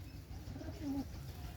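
A giribaz pigeon gives one soft rolling coo about halfway through, faint over a low background hum in an otherwise quiet space.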